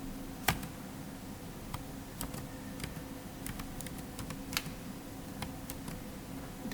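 Keys tapped on a computer keyboard while HTML script code is typed, giving sparse, quiet, irregular clicks with a few sharper strikes over a steady low hum, with no voices.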